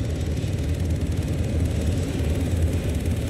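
Steady, heavy rotor and engine rumble of a helicopter flying in a multiplayer video game, loud and close, droning continuously without a distinct crash impact.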